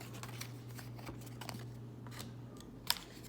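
Star Trek Frontiers game cards shuffled by hand in a quiet room, a string of soft riffling snaps and taps with one sharper click near the end.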